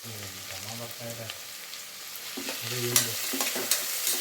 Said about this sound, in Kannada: 3 ಈರುಳ್ಳಿನ ಕಟ್ ಮಾಡಿ ಎತ್ತಿಟ್ಕೊಂಡಿದ್ದೀನಿ, ಅದನ್ನು ಹಾಕ್ತಿದ್ದೀನಿ. ಈರುಳ್ಳಿ ಚೆನ್ನಾಗಿ ಫ್ರೈ ಆಗಲಿ.